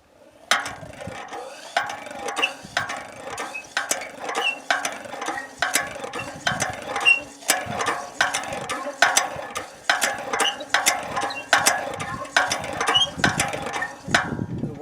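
A hand-operated well water pump mechanism creaks and clanks in a steady repeating rhythm, each stroke a sharp metallic knock followed by a short grinding rattle, close up.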